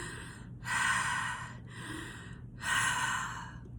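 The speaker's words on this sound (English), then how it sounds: "my normal breath is a conscious breath, which is a connective breath. Using only your mouth, and that moves much more air." Deep connected breathing through the mouth, close and loud, with continuous airy inhales and exhales flowing into each other without pauses over about four seconds.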